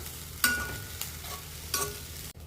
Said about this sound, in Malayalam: ചെറുതായിട്ടൊന്ന് ഇളക്കി കൊടുക്കാം.